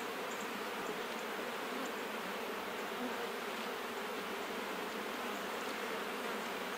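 Honey bees swarm around wooden hive frames holding comb, honey and queen cups, making a steady, dense buzz that fills the whole stretch with no voices.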